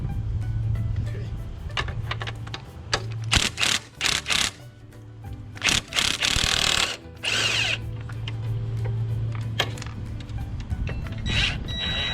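A ratchet turning a 15mm bolt on an ATV control arm during a Super ATV control arm install on a Can-Am Renegade/Outlander: bursts of close, rapid clicking between pauses, over a steady low mechanical hum from a nearby machine.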